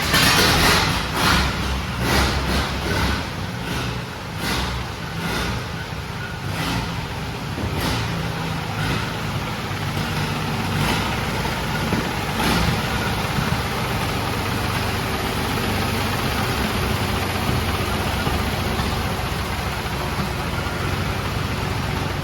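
An old engine chugs unevenly with sharp repeated bursts early on, then settles into a steady, loud idle rumble.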